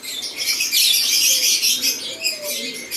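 Racing pigeons arriving home to the loft, one checkered and one red, with bright chirping and fluttering over steady high-pitched bird chatter, close and continuous.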